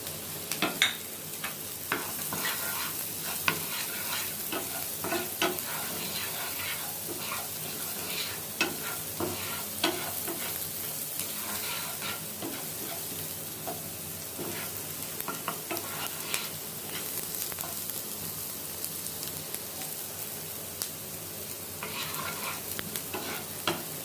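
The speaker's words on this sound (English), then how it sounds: "while the onion has started to sweat, we are going to add the garlic." Chopped garlic fries with sweating onion and a pinch of salt in a pan. A steady, close sizzle runs throughout, broken by frequent small crackles and stirring scrapes.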